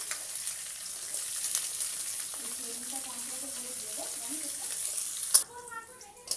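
Bell pepper pieces hiss and sizzle steadily in a hot pan of oil among vegetables being fried for fried rice, with a sharp clatter near the end followed by a quieter, shifting sizzle.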